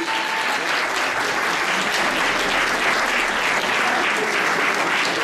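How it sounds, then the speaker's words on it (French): Dense, sustained audience applause at an evening event welcoming a speaker on stage, loud and continuous without a break. "On l'applaudit."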